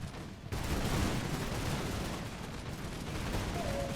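Dense musket volleys and artillery rumble from a Total War mod battle with grenadiers fighting militia, a continuous loud crackle of massed gunfire with no pause.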